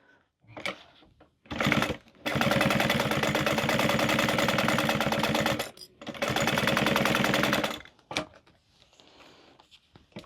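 A sewing machine top stitches along the long sides of a boxy bag in two loud, steady bursts of fast stitching with a short pause between, close up, with quieter handling noises before and after.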